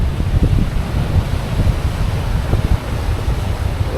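Waves roll and break on a beach in Maui with a continuous low rumbling surf, mixed with heavy wind buffeting the microphone.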